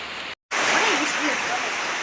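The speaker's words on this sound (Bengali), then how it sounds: "অনেক বৃষ্টি হচ্ছে, সেই বৃষ্টি হচ্ছে, অনেক বৃষ্টি হচ্ছে" Heavy rain pours down steadily outdoors among banana and other trees, a thick continuous hiss right after a short dropout, with a voice talking over it.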